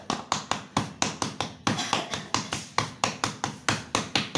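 Hands pat bhakri dough flat on a surface in quick, steady rhythm. About a dozen close, crisp slaps follow one another evenly, with no talking.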